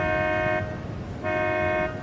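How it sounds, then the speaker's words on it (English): A car alarm blares on Catalina Island in two loud, steady electronic tone bursts with a brief gap between them, heard alone without talk. "Someone's car alarm's going off."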